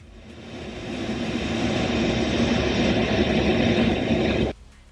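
An A-10 Warthog attack aircraft roars past, its broad jet-engine rumble swelling steadily louder over several seconds before cutting off abruptly near the end.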